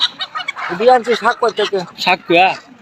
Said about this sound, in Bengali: দেখেন অনেক বেশি মুরগি